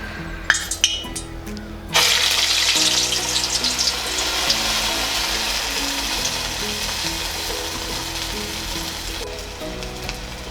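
Vada dough for curd vada fries in hot oil with a loud, continuous sizzle that bursts in after a few clinks of a utensil and then settles into a steady crackle. No one speaks.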